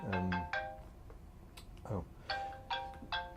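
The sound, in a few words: mobile phone ringtone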